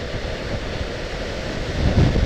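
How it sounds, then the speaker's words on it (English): Strong wind gusting at over 40 mph roars and buffets the microphone in a steady, loud rush that swells toward the end, with no speech. "Oh dear me, that wind is horrendously strong. We have got some 40 plus mile an hour winds here."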